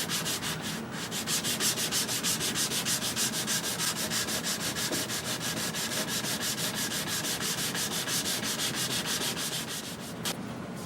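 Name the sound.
hand sanding a wood veneer cabinet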